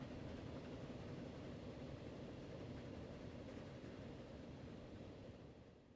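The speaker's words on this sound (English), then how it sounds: "The train is coming." A train arrives in the railway-building game Transport Fever as a steady, even rumbling wash that holds for several seconds and fades slightly at the end, with no talking.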